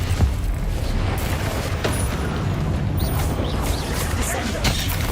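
Confringo blasting spells burst in Hogwarts Legacy combat, a series of dull, muffled booms within a dense, steady wash of battle noise and magic effects.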